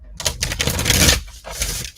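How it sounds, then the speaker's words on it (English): A deck of Sacred Rebel Oracle cards is shuffled by hand in several quick, loud papery bursts with brief pauses between them, close by and without speech. "let's shuffle it up and see what we get out of the Sacred Rebel Oracle"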